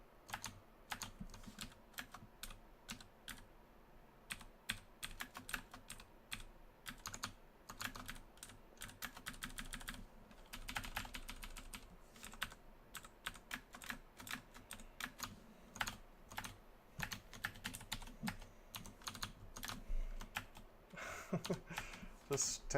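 Quiet, rapid, uneven clicking of a computer keyboard as the Tab key is pressed over and over while playing Dungeon Crawl Stone Soup, with a voice talking softly underneath.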